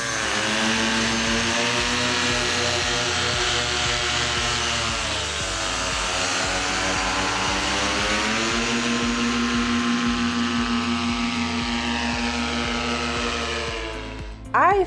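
Vittorazi Cosmos 300 paramotor, a 288cc engine with propeller, running in flight on a Fly Products Xenit trike: loud, continuous buzzing drone with a steady tone that dips briefly and recovers, heard close throughout.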